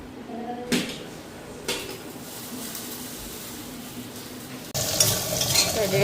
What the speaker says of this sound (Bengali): ভেন্ডি ভাজাটাও হয়ে গেল